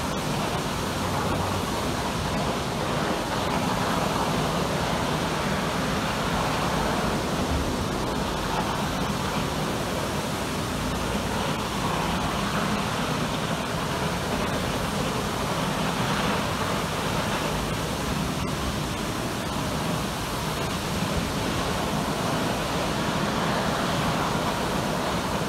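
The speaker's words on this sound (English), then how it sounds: "That's just a tremendous force of water coming out of the ground." A powerful, steady rush of water gushing from a broken fire hydrant roars without pause, loud and close, filling the whole stretch with dense noise.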